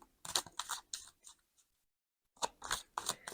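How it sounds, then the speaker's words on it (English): Tarot cards being shuffled by hand, crisp papery riffles in short bursts that pause briefly before resuming, close and fairly quiet. "as I'm shuffling the cards"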